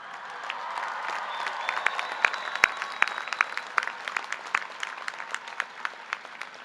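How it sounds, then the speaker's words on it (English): A large audience at a university commencement ceremony applauds for graduates' families and friends, a dense sustained wash of clapping with individual sharp claps standing out and gradually thinning toward the end. "let's also celebrate your families and friends with a very big round of applause"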